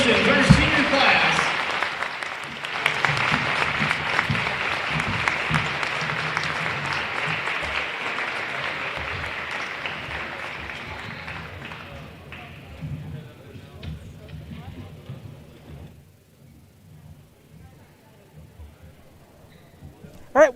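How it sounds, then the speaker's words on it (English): A high school wrestling crowd applauds the senior class and their parents in a gym: loud sustained clapping that gradually thins and fades over about twenty seconds, with some crowd noise mixed in. "give all of our seniors and their parents a round of applause"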